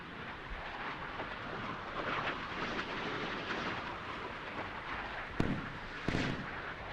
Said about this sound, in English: There goes 1, 2, 3 missiles.